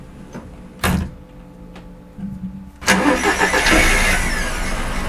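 A diesel truck in a horror video game starts up: a door thuds, a brief starter crank follows, then the engine catches and roars into a loud, steady rumble, close and alone.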